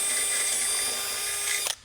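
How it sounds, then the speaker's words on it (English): A step drill bit bores through aluminum for a deck lid on an autocross Camaro, giving a steady, close high-pitched whine for under two seconds before cutting off abruptly. "So when I drill through the aluminum like this, I'm not gonna go all the way through"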